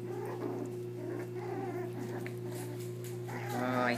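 Four-week-old puppies whimper and play-fight, letting out thin, high squeals and little yelps in quick bursts that rise near the end, with faint indoor background noise.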